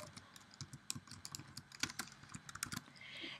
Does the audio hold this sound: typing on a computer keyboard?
yes